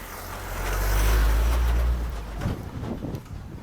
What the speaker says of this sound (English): Another car coming by.